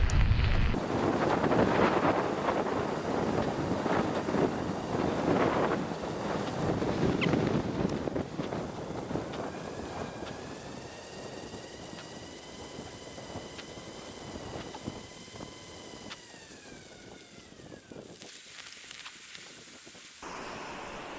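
Strong wind buffeting the microphone while cycling across a frozen lake, a loud, continuous rushing roar for most of the clip, with a thin whining tone rising and falling midway before the gusts suddenly drop away into near silence.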